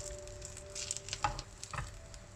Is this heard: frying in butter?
yes